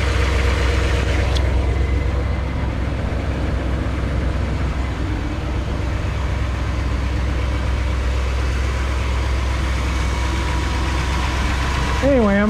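Chevrolet Bel Air with a 348 engine idles steadily while warming up, a loud, close, low rumbling drone with a faint ticking knock that holds unchanged throughout, with a brief noise near the end.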